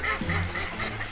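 Ducks and geese quack and honk together at a wetland wildfowl reserve around feeding time, a close, continuous chorus of overlapping calls.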